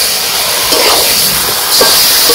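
Chicken and potatoes sizzle in a pan while a village-style chicken curry cooks, a loud continuous hiss and crackle close up with small spatters.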